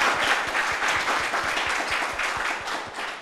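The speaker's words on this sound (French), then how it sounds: "Ça peut s'applaudir très très fort." Loud, sustained applause from an audience at a youth holiday event in Koumassi, dense clapping filling the whole stretch with steady intensity and no voices over it.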